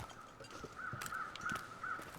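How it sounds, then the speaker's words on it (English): Crows caw several times in the video game The Long Dark as birds take off, harsh repeated calls spaced through a quiet outdoor wilderness ambience, faint and somewhat distant. "Birds are taking off today."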